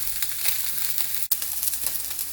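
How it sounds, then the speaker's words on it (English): Salmon searing in a pan until crispy and golden brown, a loud continuous sizzle and crackle close up, broken by one brief dropout midway, with no talking. "we're just going to let that sit and cook and get it nice and crispy and golden brown"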